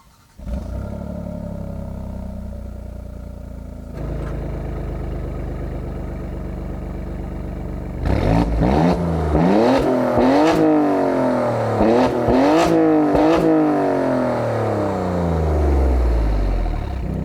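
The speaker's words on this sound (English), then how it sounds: "the engine sounds super exotic, very race car-like" A twin-turbo V6 engine in a 2019 Alfa Romeo Stelvio Quadrifoglio SUV idles, then revs hard in repeated sharp bursts, climbing and falling in pitch, loud and close with no talking.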